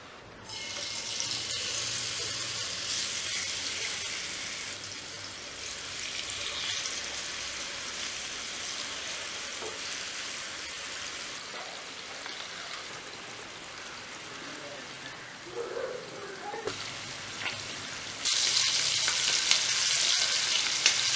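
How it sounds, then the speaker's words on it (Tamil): Prawns fry in hot coconut oil in a pan at a village outdoor cooking spot, giving a steady, close, loud sizzling hiss that swells louder near the end, with no talk. "நாங்கள் இந்த இறாலை பொரிச்சு எடுக்க போகிறோம்."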